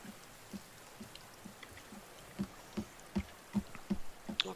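Rain in the survival video game The Forest: scattered, close raindrop taps strike a surface at an irregular, quickening pace over a quiet background hiss.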